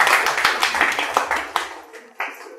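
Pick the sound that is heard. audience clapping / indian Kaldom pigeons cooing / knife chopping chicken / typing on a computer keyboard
audience clapping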